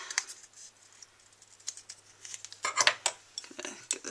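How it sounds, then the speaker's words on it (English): Scissors snipping through thick paper for a wedding embossed rosette, a run of crisp close cuts with a dense burst near the end, quiet between strokes. "I'm going to cut this down maybe about 1/4 of an inch to 1/2 an inch down the center"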